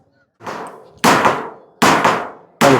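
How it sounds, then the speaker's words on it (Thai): Hammer blows driving nails into wood on a Thai rural building project for a bathroom and chicken coop, three or four loud separate strikes close by, each ringing briefly before the next. "ต้องคอยตอกเนาะ"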